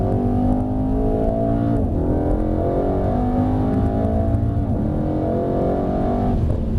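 A Mercedes-AMG E63 S Estate Edition 1 accelerates hard out of a turn on a handling track, its engine roaring loud and steady from inside the cabin, with rising pitch sweeps through gear changes and no talk.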